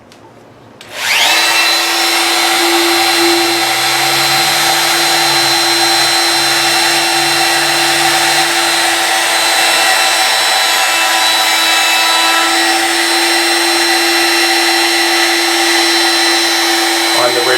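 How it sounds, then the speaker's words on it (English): A router riding on a sled cuts a guitar neck at a luthier's workstation. After a brief quiet start, a loud, steady, high motor whine with cutting noise runs without a break. "This is where I make my last adjustment to control the sliding action of the router sled."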